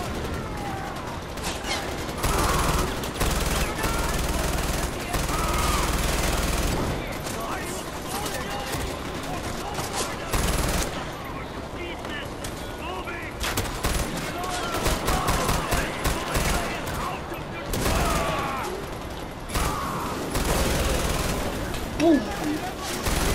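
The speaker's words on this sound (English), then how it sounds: "Time to use the other LMG!" A light machine gun fires in Far Cry 4 in repeated bursts mixed with other game sounds. A person talks over parts of it.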